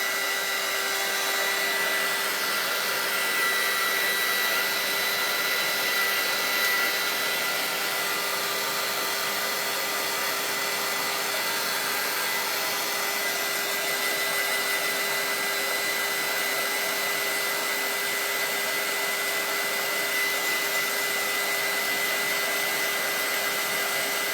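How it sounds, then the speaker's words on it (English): A hair dryer runs continuously, blowing over a painted cross on a fabric throw pillow cover, a steady loud whirring hum with no pauses and no talking. "Now I'm going to dry the top of Jesus Cross"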